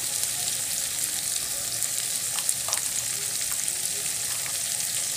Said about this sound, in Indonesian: Aduk lagi sampai rata.